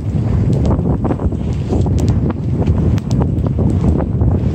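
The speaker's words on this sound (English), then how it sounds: "The wind's picking up now and switched to southeast as it was forecast to do." Steady, loud wind roars across the microphone aboard a sailboat cruising at 4 to 5 knots through the Gulf Islands as a southeast wind picks up, with water rushing beneath and no talk.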